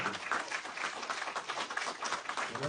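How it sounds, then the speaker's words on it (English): Audience at a Navy League and Sea Cadet luncheon applauding the speakers, a dense, steady round of many hands clapping throughout, fairly close and without talk. "One more round of applause for all the speakers."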